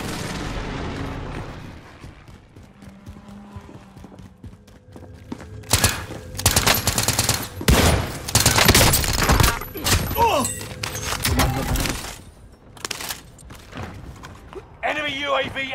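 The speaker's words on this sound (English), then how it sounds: "Allied precision airstrike incoming." A precision airstrike in Call of Duty Modern Warfare hits as a cluster of loud, booming explosions and bursts in the middle of the clip, fading back to quieter battle noise, with voices calling out around it.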